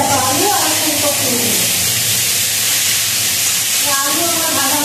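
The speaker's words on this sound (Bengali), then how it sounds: "ফুলকপি আর আলু ভাজা করছি" Potato and cauliflower pieces fry in a pan with a loud, continuous crackling hiss, while a voice and some tonal background sound rise and fade over it.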